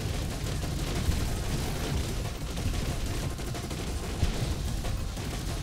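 Video game explosions and shrapnel bursts from weapons, a dense continuous barrage of booms and crackling blasts that keeps going without pause, loud and busy throughout.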